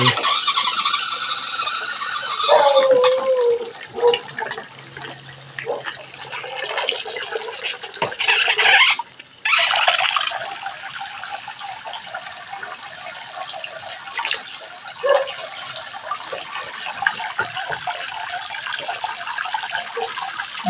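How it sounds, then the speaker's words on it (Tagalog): Water rushes and splashes steadily from the supply into a catfish breeding tank, with a brief squeal of a valve or pump early on and a few dips in flow. "ilalagay na po natin ang ating water supply"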